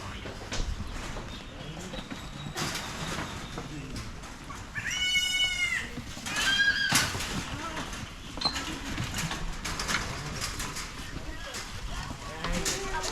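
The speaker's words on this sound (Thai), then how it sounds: "แพะน้อยกินถั่วฝักยาว" A young goat feeds on long beans at a farm stop, with a few short bleats rising above the steady outdoor bustle while people chatter nearby.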